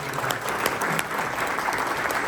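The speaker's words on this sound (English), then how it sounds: "Let's give a round of applause." A presentation audience gives a short burst of applause, many hands clapping together in an even, continuous patter for a couple of seconds.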